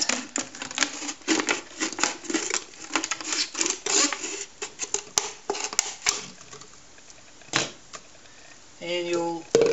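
Hobby knife piercing and cutting around a 1.5 litre plastic bottle, giving a run of sharp, irregular clicks and scraping crackles close by, with a short rattling burst near the end.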